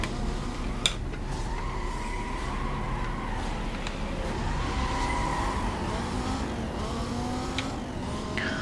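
A Dodge Viper SRT-10 racing in a Need for Speed game, its engine droning steadily at high revs with shifting pitch sweeps and a sharp click near the start.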